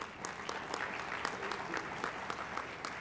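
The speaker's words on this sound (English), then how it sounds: "Give them a round of applause, please." Steady applause from a crowd, with dense, continuous clapping that holds at an even level throughout.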